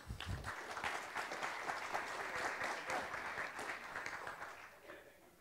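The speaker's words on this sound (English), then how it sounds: "Our applause to panel one." A conference audience applauds a panel, steady dense clapping from a sizable crowd that holds for several seconds and then tapers off.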